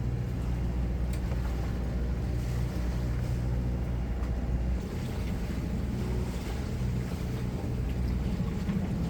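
A boat engine runs at about 2000 rpm in a headwind and against the current in a strait, a low steady drone under gusting wind noise and slapping waves, with no talk.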